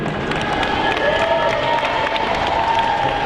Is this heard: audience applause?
yes